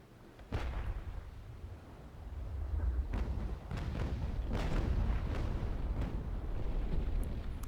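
Naval cannons in the Naval Action video game fire on a snow ship at sea, giving several deep booming shots spaced a second or two apart over a rumbling wash of wind and water.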